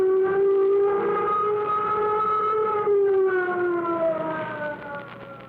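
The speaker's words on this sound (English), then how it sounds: "Sound flight warning signal." A flight warning siren in a 1949 old-time radio mystery drama wails steadily and loud with a rich harmonic tone, sliding slowly up and down in pitch and dipping slightly as it winds down.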